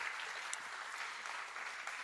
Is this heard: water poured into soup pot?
no